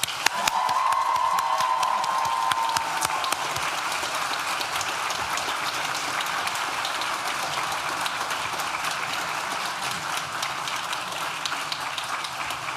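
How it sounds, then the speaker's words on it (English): Graduation ceremony audience at the Nottingham Trent University School of Art & Design applauding at length, a sustained, dense roar of clapping from a large crowd that stays loud throughout. "join me in giving a round of applause to the family and friends who have supported us throughout our journey at NTU."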